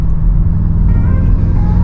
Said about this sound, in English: Hopefully we've got some good air intake noises.